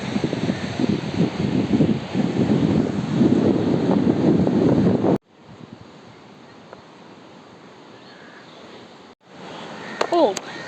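Sea waves and wind at Digha beach, a broad rushing roar of surf with wind buffeting the microphone, loud at first, then dropping to a quieter steady wash with faint traces of distant voices.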